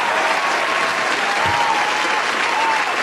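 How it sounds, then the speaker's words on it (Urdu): Dense, sustained applause from a mushaira audience welcoming the poet Dr. Rahat Indori, a loud, even wash of many hands clapping that fills the whole stretch without a break. "تالیوں سے استقبال کیجیے"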